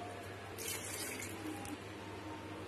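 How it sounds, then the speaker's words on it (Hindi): Two glasses of water pour into a pressure cooker holding chopped jackfruit, making a steady splashing rush that lasts a few seconds at close range. "अब इसमें दो ग्लास पानी डाल देंगे।"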